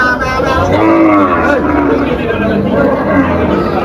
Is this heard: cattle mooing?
yes